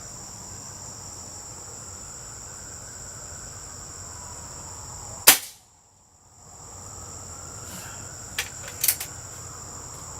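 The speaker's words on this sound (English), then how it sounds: "This gun is loud." Crosman F4 pellet rifle, unsuppressed, fires a single sharp, loud crack outdoors, with steady cricket chirping in the background and a couple of faint clicks afterward.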